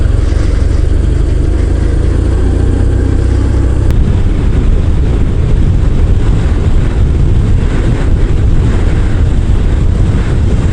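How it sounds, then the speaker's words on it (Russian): Strong crosswind buffets a rider aboard a BMW R1100RT motorcycle: a loud, continuous low roar of wind against the microphone, blended with engine drone, lasting throughout with no voices. "Нихера себе боковой тут дует."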